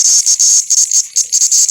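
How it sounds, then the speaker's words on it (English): A cicada held in the hand buzzes in loud, close, rapid pulses, a high shrill rattling that stutters on and off in quick bursts. "That's a cicada."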